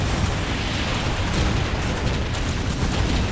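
Large explosion in the strategy game Dawn of War Ultimate Apocalypse during a Warhammer battle: a continuous loud, crackling roar of blasts and bursts with a strong low rumble, steady throughout with no talking.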